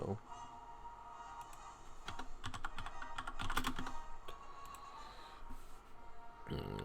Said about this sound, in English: Let me type that in the title.